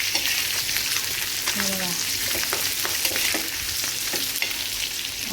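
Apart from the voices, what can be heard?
frying sparrow meat in a pan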